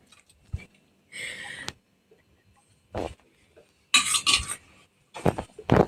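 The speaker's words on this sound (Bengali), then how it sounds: "প্রথমে বেড়ে দিচ্ছি ভাত" Rice is served onto a plate at home with a metal spoon, giving intermittent scraping clinks and taps of utensil against dishware separated by quiet gaps.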